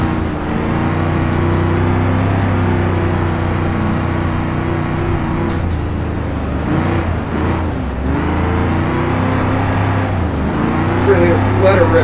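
Modified dirt race car engine in the BeamNG.DRIVE game, revving hard with a steady loud drone and pitch swings as the throttle rises and dips, with a voice talking over it throughout.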